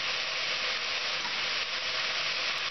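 Ginger sautéing in a hot pan for Kerala beef peralan, with a steady, even sizzle that carries on without a break and no talking over it.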